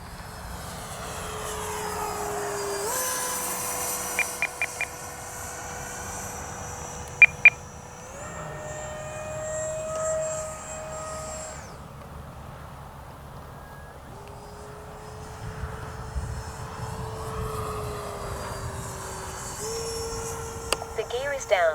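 H-King Flycat V2 twin-engine RC jet flying overhead, its ducted fans giving a continuous whine that shifts in pitch as it passes, with a few short beeps and someone speaking intermittently nearby.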